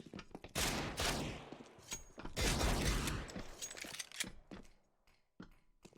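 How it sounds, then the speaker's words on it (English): Gunfire during a professional Counter-Strike: Global Offensive esports match on the Overpass map: loud, close volleys of rapid shots in dense bursts, with mechanical weapon clatter, short pauses between volleys and sharper single pops toward the end. "Some shots for a CT on the rails."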